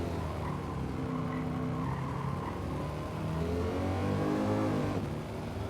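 A car engine revs and its tyres squeal through a corner during a licence test in Gran Turismo 7, with the engine pitch sweeping up and down while a steady squeal runs close and loud.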